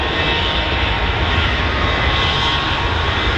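Airliner engines roar at high power as they spool up for takeoff at Manchester Airport, a loud, broad, steady jet rumble and hiss filling the whole stretch without pauses or voices.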